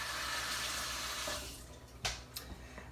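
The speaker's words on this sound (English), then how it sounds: "Rinse my hands." Tap water runs steadily into a kitchen sink while hands are rinsed under it, a broad close splash that stops midway, followed by a few brief clatters and knocks.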